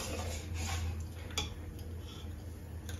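Rice kheer being stirred in a pot, with soft, intermittent scraping and light clinks of a spoon against the metal over a low steady background, with no voices.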